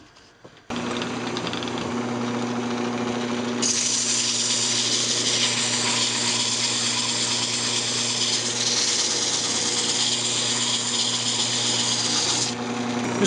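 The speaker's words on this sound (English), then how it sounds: "Alright, now I'm just going to go ahead and sand it up." A redwood Christmas ornament spinning on a wood lathe is sanded, giving a continuous close hiss and rasp over the motor's steady drone, growing brighter partway through and holding steady to the end.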